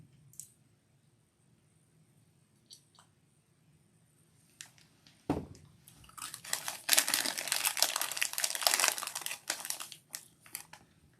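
Crisps being eaten from a crinkly packet on a beach, with a burst of loud crackling, crunching and rustling in the second half after a few scattered clicks, close and alone without talk.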